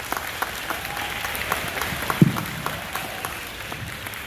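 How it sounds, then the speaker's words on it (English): A crowd applauds at a gathering with NFL players, moderate clapping in a sustained wash with a few sharper individual claps standing out, heard at some distance. "a big round of applause"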